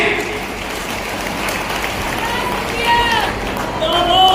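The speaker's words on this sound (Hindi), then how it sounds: "अब अच्छी तालियां बजी।" An audience claps at a Raksha Bandhan festival event in a hall, a dense sustained applause with crowd babble and voices rising over it.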